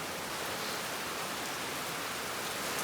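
Rain falling during a road trip in Kerala, a dense, steady wash of hiss with no individual drops standing out, fairly quiet and unbroken, with no voices.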